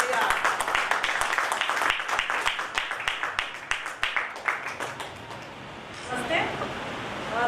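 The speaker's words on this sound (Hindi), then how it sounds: "ये तालियां।" Audience clapping at a railway goods-shed workers' union leadership meeting in Delhi, a dense, steady round of applause from a crowd that tapers off near the end.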